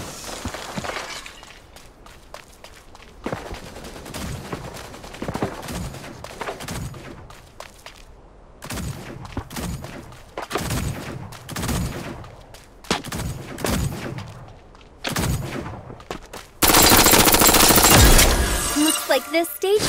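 Gunfire in the mech battle royale game Super Mecha Champions, rapid bursts of shots and impacts crackling in irregular clusters, ending in a louder sustained blast of noise.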